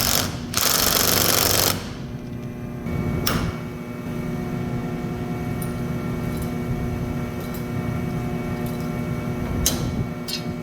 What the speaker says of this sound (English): If we want to use this with an impact, we can actually do that.